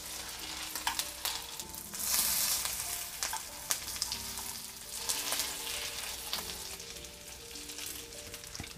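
Fish patties (balık köftesi) fry in a pan with a steady, crisp sizzle and crackle, broken by occasional sharp spatters and the clink of utensils, close and moderately quiet, with no one talking.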